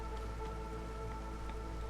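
Rainstorm in the video game Against the Storm, a steady, soft wash of rain spattering on surfaces, continuous and even with no breaks, heard alone without voices.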